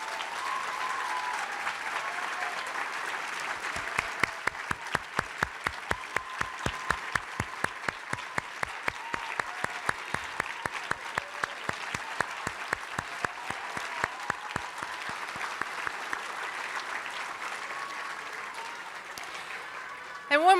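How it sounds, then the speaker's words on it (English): Room full of people at a 2019 women's awards event gives the finalists a long round of applause, a steady crackle of many hands with sharper individual claps standing out, continuing for about twenty seconds before trailing off. "if we could do one more round of applause for the finalists"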